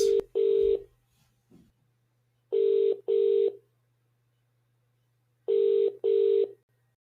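An outgoing telephone call rings back with paired ring tones, repeating three times with long quiet gaps between pairs and no talk over it.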